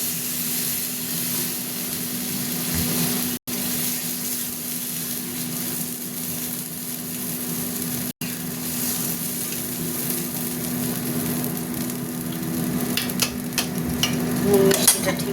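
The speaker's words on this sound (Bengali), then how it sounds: "এরকম মশলা কষা হয়ে যাচ্ছে, মশলা লেগে যাচ্ছে" Spice paste for a sardine curry being stir-fried in a pan, giving a steady loud sizzle with repeated utensil scrapes and stirring clatter that grow busier toward the end, with no voices.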